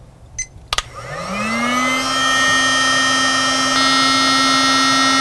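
A Kamado Joe Blow Lighter clicks on and spins up into a steady loud whirring blower hum on its heat setting, holding constant after a brief rise.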